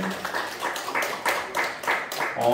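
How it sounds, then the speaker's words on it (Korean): A church high school congregation claps together to welcome a new student, a quick, fairly even run of hand claps at close range. "우리 다시 한번 민철이를 박수로 우리 환영하도록 하겠습니다"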